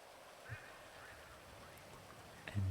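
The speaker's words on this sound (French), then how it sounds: "Il pleut quand même beaucoup." Steady rain falling in a video game set in Los Plantos, a soft, even hiss with a couple of faint knocks, low and continuous with no talk over it.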